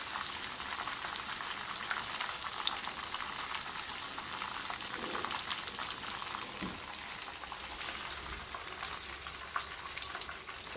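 Chicken shashlik skewers fry in hot oil with a steady, dense sizzle and crackle, loud and continuous throughout, with occasional sharper pops and no voices.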